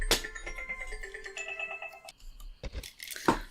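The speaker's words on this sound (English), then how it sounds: "Oh, that'll be my phone again." Mobile phone ringtone chiming in a short melodic pattern that stops, then sounds again briefly, alongside the muffled background of a Tomb Raider level editor jungle ruins game.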